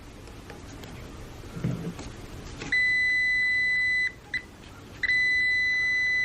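Electronic multimeter continuity test beeps on a Goodman furnace DC motor module: a steady high tone sounding for about a second and a half, a brief chirp, then another sustained beep, loud and close.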